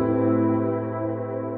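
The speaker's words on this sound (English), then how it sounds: "That is a minor 9 chord, and it's a thing of beauty." A sustained minor 9 chord rings out on what sounds like a keyboard instrument, struck once and left to sustain smoothly with a slow, gentle decay for under two seconds, with no voices present.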